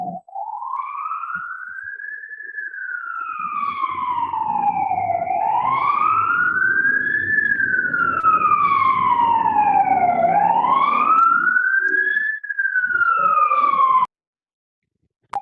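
An emergency vehicle siren wails loud and steady outdoors, sweeping up and down in long slow cycles for about fourteen seconds before cutting off abruptly, with no talking over it.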